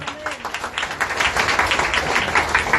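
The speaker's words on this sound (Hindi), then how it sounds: "हालेलुया, ताली बजाएंगे सभी लोग।" A church congregation at a prayer gathering claps along in a quick, even rhythm, many hands close and fairly loud throughout, with a voice faintly present at the start.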